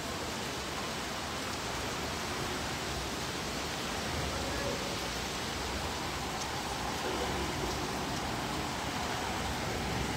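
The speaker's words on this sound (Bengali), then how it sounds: "কি সুন্দর বৃষ্টি পড়তেছে" Steady rain falling at night, a dense, even hiss of water filling the whole space without a break, loud and constant throughout.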